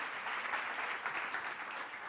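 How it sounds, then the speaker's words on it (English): A brief burst of audience applause for panelists at a city-planning plenary of a conference, steady and moderately loud many-handed clapping sustained throughout, with no speaking. "Please applause for the panelists."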